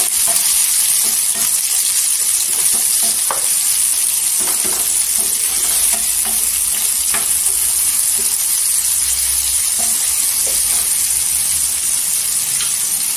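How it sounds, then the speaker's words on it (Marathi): Chopped tomato with salt sizzles and fries in hot oil in a pan, a loud, steady hiss with occasional stirring clicks and pops throughout. "इथे तेलावर परतून घ्यायचा टोमॅटो।"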